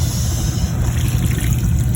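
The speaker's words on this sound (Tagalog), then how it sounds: "Dagdagan po natin yan ng konting tubig." Steady gushing water poured into a cooking pot runs loudly and close, a continuous pouring rush with no pauses.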